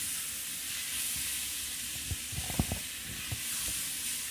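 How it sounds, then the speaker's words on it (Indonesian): Shredded mushroom and boiled spaghetti sautéing in a pan, a soft steady sizzle under a cluster of low thumps and scrapes from stirring midway, fairly quiet with no voices. "kita masukkan jamur erincinya yang sudah disuir-suir tadi ya. Kita tumis."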